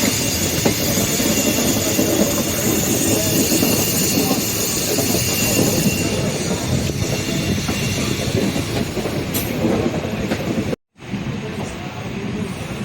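Train running through Trichy junction station, a steady dense rumble of wheels and carriage noise with hiss, continuous and close, with a brief cut near the end.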